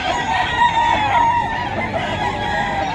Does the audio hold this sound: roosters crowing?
yes